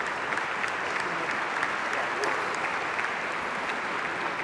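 Sustained audience applause for award recipients at a sports-officiating tribute ceremony, steady and dense throughout with no pauses, many hands clapping at once.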